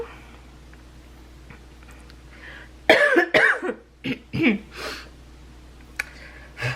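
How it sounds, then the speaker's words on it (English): A few sharp, harsh coughs burst out close by in quick succession after a quiet stretch, followed by a brief breath. "This freaking cough doesn't go away."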